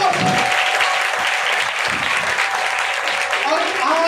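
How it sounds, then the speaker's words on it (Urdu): A church congregation of disciples claps together for a few seconds, dense steady applause filling the room while voices talk over it. "چلیں شاگردوں کے لیے خود ہی شاگرد تالیاں بجائیں۔"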